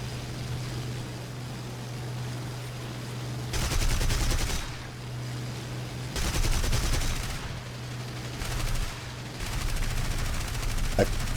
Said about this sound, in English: My cannons are reloaded and I'm able to unload on him